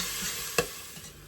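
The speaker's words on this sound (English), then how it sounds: "So we'll fry those until they get nice and brown and softened" Onions frying in a pan give a steady close sizzle, broken by a single sharp tap or scrape of a utensil partway through, with no talking.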